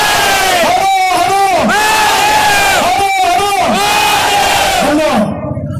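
A large crowd roars slogans in unison for Chhatrapati Shivaji Maharaj at a public gathering in Sangamner, several loud sustained chanted calls in a rising-falling rhythm, each ending in a collective cheer, close and dense throughout.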